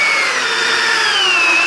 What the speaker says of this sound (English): First step with the drill.